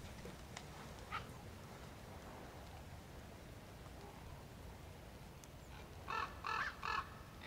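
Common ravens calling at a vulture feeding site in Dadia, Greece, a faint calm outdoor background with a single distant croak early on and a quick run of three harsh calls near the end.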